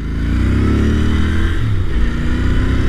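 A Royal Enfield Interceptor 650 motorcycle revs up close during a ride, its engine pitch climbing and dipping in a strong, continuous roar with no voices.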